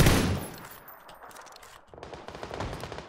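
Shotgun blasts ring out in a multiplayer shooter, one loud close shot at the start followed by a scatter of quieter rapid gunfire and ambient battle noise, no talking.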